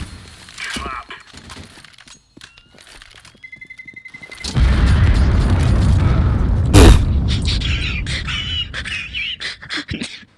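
A bomb goes off in a multiplayer video game as a loud, sustained, rumbling boom with a sharp crack partway through, among scattered game effects.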